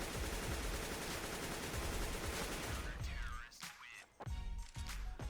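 Rapid automatic rifle fire sprays through a wall in Counter-Strike: Global Offensive on the Nuke map, a dense continuous burst for about three seconds, then a brief pause and a few more scattered shots.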